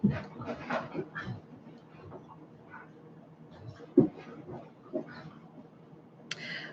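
Dogs wrestle and play nearby with scattered yips, whimpers and short growly bursts, plus thumps and scuffling, partly under a person talking.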